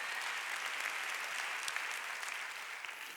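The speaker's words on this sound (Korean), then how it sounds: "박수야." Congregation applauds during a Sunday church worship service, a steady, even wash of many hands clapping at moderate distance, continuing throughout without talk.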